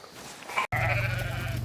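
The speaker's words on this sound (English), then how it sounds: "So these are all Texan lambs now. All fine Texan lambs." Texan lambs bleat at a livestock sale, a loud nasal cry breaking off abruptly and then resuming as a sustained bleat over a steady background rumble.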